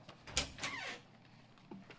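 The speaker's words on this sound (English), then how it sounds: "Open the door." A door creaking open, a quiet drawn-out squeak with a short bump first and a faint second creak near the end, heard alone in a quiet room.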